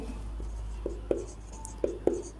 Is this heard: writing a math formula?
yes